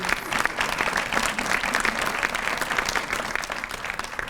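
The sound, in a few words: audience applause at a banquet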